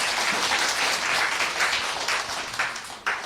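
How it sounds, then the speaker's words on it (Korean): Seminar attendees at a sales training session clap together in a brisk, dense burst that rises, holds, and then tails off with a few last scattered claps. "착한 분들을 위해서, 자기를 위해서 박수 한번."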